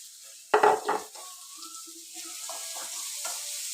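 Onions frying with a little salt in a pan for kadala curry: a sharp burst of clatter and sizzle early on, then a faint, steady crackle and light stirring with no talk.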